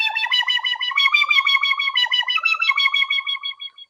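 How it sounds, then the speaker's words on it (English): A Shonuff-style synth lead from an iPhone app with a pointy, resonant wah filter warbles in rapid rhythmic pulses, bright and distorted, played alone and close for a few seconds. "type of wah-wah sound."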